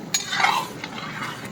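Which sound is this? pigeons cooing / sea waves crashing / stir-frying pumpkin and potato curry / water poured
stir-frying pumpkin and potato curry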